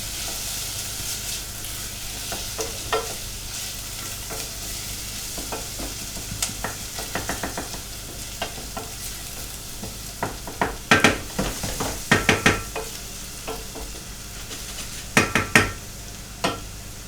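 Vegan food with chilli flakes cooking in a pan, a soft steady sizzle under repeated scrapes and clatters of a utensil stirring against the pan, with sharper knocks in clusters.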